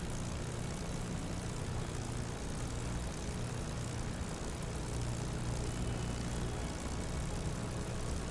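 A P-51 Mustang's Merlin engine runs steadily in DCS World, a dense continuous drone with low rumbling harmonics, loud and unbroken with no voices.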